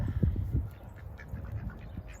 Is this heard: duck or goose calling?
yes